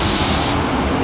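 Spray paint or aerosol hissing onto a Chevy Sonic in one loud, steady burst that cuts off about halfway, leaving a quieter background hush.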